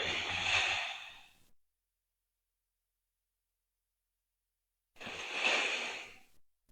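Two long, audible exhales during a guided morning exercise session, each a close breathy whoosh of about a second and a half, separated by several seconds of silence.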